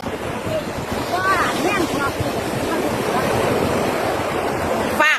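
Sea surf rolling onto a beach at Koh Samet in Thailand, a steady broad wash of waves mixed with wind buffeting the microphone, with a few faint voices and brief bird-like chirps in the background.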